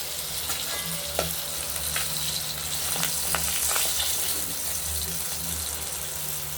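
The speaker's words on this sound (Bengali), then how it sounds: "মাছটা ভাজা হতে থাকুক" Pabda fish sizzling in hot oil in a pan, a constant crackling hiss with occasional sharper pops and clinks, close and steady.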